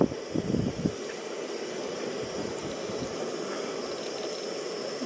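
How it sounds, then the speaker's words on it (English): Alaska razor clams get rinsed under running water, a steady splashing stream with a few louder knocks and splashes at the start, then constant flow. "Don't be afraid to rinse, rinse, rinse, rinse."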